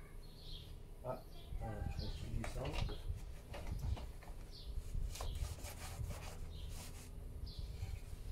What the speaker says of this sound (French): j'en profite ben, pour nettoyer bien sûr les ailettes